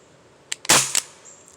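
An Elite Force H8R airsoft revolver fires over a chronograph: a faint click, then one sharp, loud snap with a quick crack trailing after, close up with no talk.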